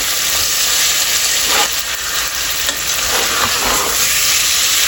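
Steady, loud sizzling of chicken frying in a hot pan, a continuous hiss with occasional stirring scrapes, close by and with no speech.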